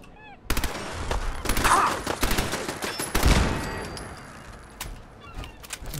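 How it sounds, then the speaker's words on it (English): Turret gunfire in a video game, heard as rapid bursts of shots that come and go over several seconds, fairly loud, with some game sounds around them. "Oh, the bloody turret."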